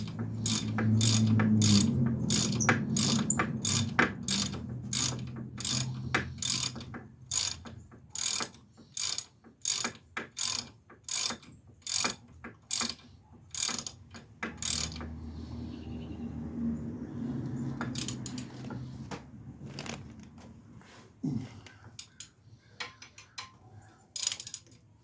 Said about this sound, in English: we're going to tighten up the bracket